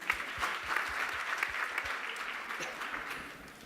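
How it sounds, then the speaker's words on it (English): Steady applause from a seated audience at an entrepreneurship panel discussion in Port Elizabeth, a dense, even patter of many hands sustained throughout at moderate volume. "I think that deserves a round of applause"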